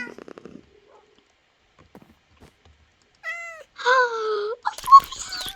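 A fluffy Siamese cat in Minecraft meows twice, clear and fairly loud, after a few soft clicks and near silence, followed by a burst of busier game sound.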